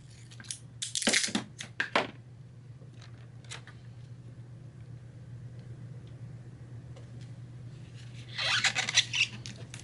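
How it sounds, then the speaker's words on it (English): Tape pulled and pressed across the top seam of a foam Edge 540 profile model plane, giving raspy rubbing and tearing bursts near the start and again at the end, with a steady low hum underneath. "Next, we're going to put a piece of tape across the top seam."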